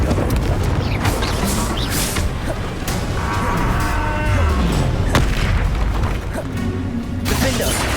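Confringo explosive spell blast in Hogwarts Legacy, loud booming impacts and rumbling over a busy battle din, with thuds and swells running throughout, close and heavy.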